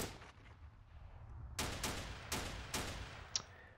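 Squads open fire in a Steel Panthers wargame battle set in the 1980 Iran-Iraq war: four or five sharp gunshot reports in quick succession, loud and close, then a fading echo and a brief metallic ping.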